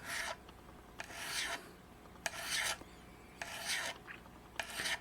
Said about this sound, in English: here's how you properly operate a file